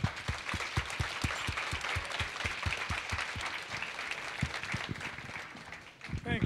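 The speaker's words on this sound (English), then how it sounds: "please join me in a round of applause for Tehran" Audience applause for a comedian at a Norooz celebration, a steady wash of clapping from a crowd with loud close claps in a quick rhythm throughout, ending in a brief swell.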